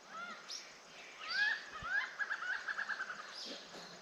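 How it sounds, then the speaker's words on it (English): A recorded Malabar grey hornbill call plays from a phone bird app outdoors. Scattered squawky calls give way to a quick pulsed cackling run, fairly near and moderately loud, with no talking. "I just played the Malabar grey hornbill sound"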